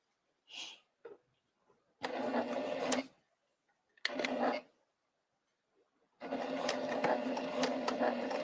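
A sewing machine stitches a quilt in short bursts of fast mechanical whirring broken by quiet gaps, with a couple of faint handling noises between runs and a longer steady run at the end.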